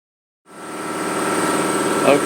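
An air compressor in a home garage kicks on abruptly after a moment of silence and keeps charging with a steady, fairly loud mechanical hum and drone.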